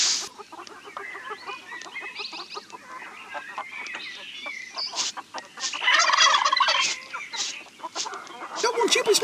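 Turkey gobbling in the 1999 farm CD-ROM game Oscar o Balonista, a series of loud rattling gobbles and clucks from a hen turkey, with spoken narration around them.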